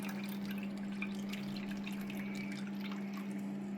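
Water runs steadily into a tank-fed plumbing fixture, a continuous close hiss and trickle with a low steady hum beneath it and faint drips on top, no talking.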